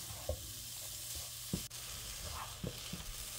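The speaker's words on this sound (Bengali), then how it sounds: "এখন গাজরটা আমি ঘিয়ের মধ্যে একটু কিছুক্ষণ ভেজে নেব।" Grated carrot fries in ghee in a pan with a soft, even sizzle, broken by a few low knocks and scrapes of stirring.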